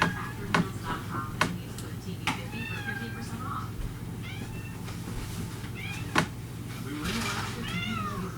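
A cat meows and yowls repeatedly in short rising cries, close by, while a woman scolds it over a low steady hum with occasional sharp clicks.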